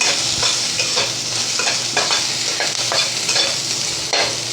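Sliced onion and vegetables frying and being stirred in a pan over a high gas flame, a loud continuous sizzle broken by repeated scraping stirs, close up with no talking.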